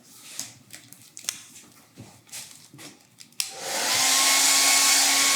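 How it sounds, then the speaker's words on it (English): Blow dryer drying stencil paint on a Christmas Nativity scene project: soft handling clicks and rustles, then the dryer switches on abruptly into a loud, steady whooshing roar. "now I have to dry that with the blow dryer"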